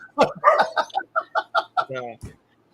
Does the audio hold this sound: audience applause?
no